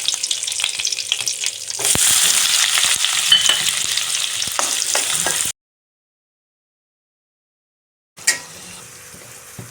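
Finely chopped shallots with fennel seeds and curry leaves hit hot oil for egg gravy, giving a loud, close sizzle with stirring, then a gap of silence and a brief renewed sizzle.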